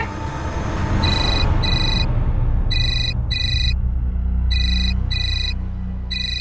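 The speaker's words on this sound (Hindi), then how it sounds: "ऑफिस से फोन है।" An electronic telephone ring sounds in repeated paired bursts over a loud, rumbling background.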